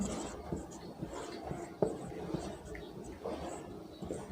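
Pen or chalk writes a word by hand, producing faint, soft scratching strokes in a quiet room, with brief taps between letters.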